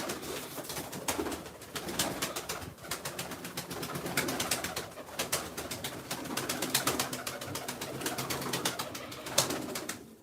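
Pigeons coo steadily nearby, layered throaty calls running throughout, mixed with frequent sharp clicking and rustling from the birds moving about.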